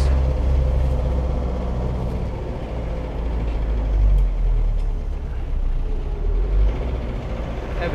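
A 1983 Land Rover Series 3 drives along with a steady, loud low engine drone and road rumble, rising and dipping slightly as it downshifts, with no talking.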